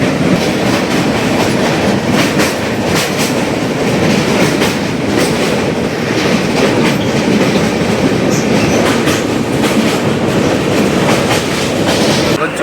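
The Kanchankanya Express rolls over the rails on a bridge, heard from on board as a loud, steady rumble with continuous clickety-clack of the wheels throughout.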